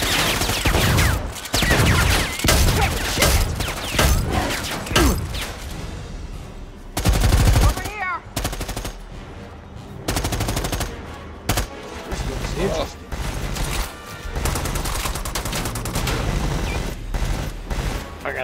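Light machine gun fire in the shooter game Predator Hunting Grounds, with loud, sustained automatic bursts and scattered extra shots running almost continuously, mixed with game effects and some voices.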